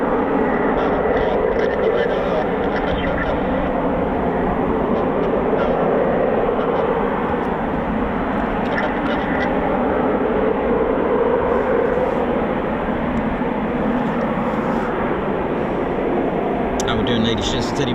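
Eurofighter Typhoon FGR4 jets taxi at RAF Coningsby at night, a loud continuous broadband engine roar and whine holding steady throughout with no clear voices.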